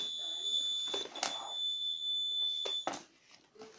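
A homemade anti-theft luggage alarm emits a continuous high electronic tone, broken by brief handling knocks and clicks before it cuts off near the end.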